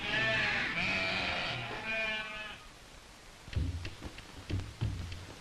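A flock of sheep herded by Gaddi shepherds in the Kangra hills bleats in overlapping, wavering calls, loud at first and then thinning out, followed by several dull knocks and shuffling sounds.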